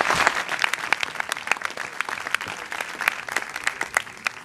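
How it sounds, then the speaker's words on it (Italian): Dense, crackling applause from a crowd at a 2010 regional election campaign rally in Conversano, steady and sustained with sharp individual claps throughout, no voices on top. "A loro bisogna fare un applauso"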